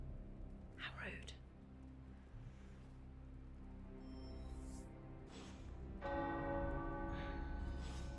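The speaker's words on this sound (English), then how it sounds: "Who's ringing the bells again?" Bells ring out in the video game Marvel's Midnight Suns, a sustained metallic toll layered over low background music, with a brighter burst of ringing near the end and voices in the background.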